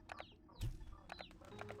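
Quiet hen clucks in the Slime Rancher 2 video game, a few brief clucks and chirps spaced out with a soft thump in between.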